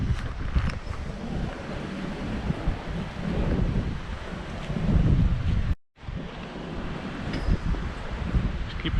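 Wind blows outdoors by the seaside in Magaluf, buffeting the microphone with a continuous, gusty low roar that swells and eases, broken by one brief dropout.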